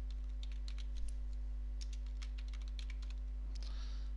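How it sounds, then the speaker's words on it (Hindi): Keyboard keys clicking in quick irregular bursts while entering text into a PowerPoint slide, faint and close over a steady electrical hum, with no voices. "यहाँ पे टाइप करता हूँ"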